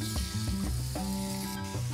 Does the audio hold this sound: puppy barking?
no